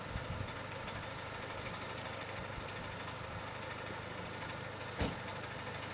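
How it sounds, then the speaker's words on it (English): A car engine idles steadily with a rough, mill-like churning rumble while out green laning near Corwen in Wales; a single sharp knock stands out near the end. "The engine. That's like something from a mill, isn't it?"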